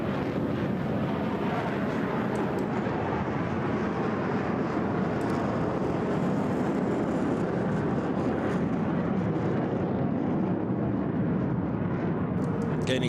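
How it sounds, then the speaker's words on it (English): An HAL Tejas fighter jet lights its afterburner and pulls into a steep vertical climb after a slow pass at an air show, a continuous, heavy, broad roar that holds loud throughout. "At the end, the afterburner will be kicked back in into a steep vertical climb from the slow speed pass."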